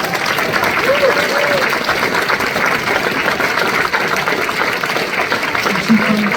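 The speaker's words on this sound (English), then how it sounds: "she needs a massive round of applause" Audience at a BBC Make A Difference Awards ceremony in Derby applauding loudly and steadily throughout, a dense wash of clapping from a large crowd with faint voices mixed in.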